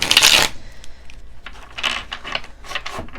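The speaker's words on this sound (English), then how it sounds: "I am doing a riffle shuffle" Tarot cards being riffle shuffled, one loud, fast flutter of cards at the start followed by quieter taps and shuffles of the deck being squared up, with no talking.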